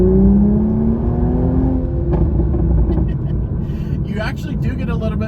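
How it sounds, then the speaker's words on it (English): A Toyota GR Supra 3.0 fitted with a JB Plus tuner drives with a loud, steady engine rumble and a rising whir, under a person talking. "You actually do get a little bit more of the turbo sounds as well."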